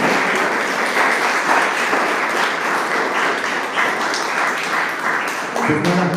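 An audience at a Spanish-language gaming community meetup applauds steadily for several seconds, the dense clapping holding an even level with some crowd murmur mixed in.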